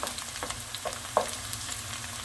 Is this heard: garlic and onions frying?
yes